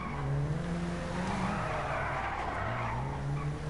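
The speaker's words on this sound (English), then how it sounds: "There's an example of Gymkhana for you." A car in GTA Online performing gymkhana drifts, tires squealing continuously while the engine drones and shifts pitch, loud and close with no talking.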